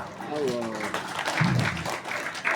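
Audience applause at an Islamic lecture gathering in Jogja, a scattered clatter of hands mixed with lively crowd voices and talking throughout.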